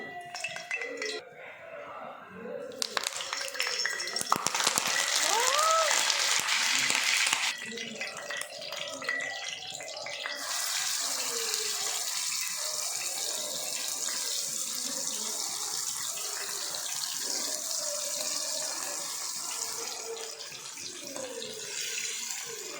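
Fish frying on a bed of curry leaves in a pan gives a steady sizzling hiss throughout, louder in bursts, with people talking over it.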